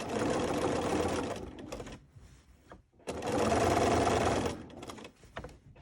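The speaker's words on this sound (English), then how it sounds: "just do random free motion quilting out on the sides of this" A sewing machine hums steadily in two long runs, free-motion quilting through fabric, with a short near-silent pause between them. The motor sounds close and loud, with a faint clatter as the runs start and stop.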